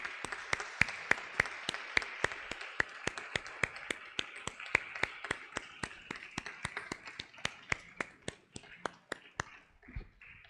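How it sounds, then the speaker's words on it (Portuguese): A church congregation claps in steady unison rhythm, with sharp, evenly spaced beats about three per second for around ten seconds before the clapping breaks off. "Aplauda o Senhor bem forte."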